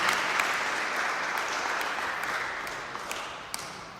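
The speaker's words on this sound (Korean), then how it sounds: "함께 박수로 환영해 주시기 바랍니다." A church congregation at Sunday worship applauds to welcome visitors, a steady wash of moderate clapping from many hands that tapers slightly toward the end.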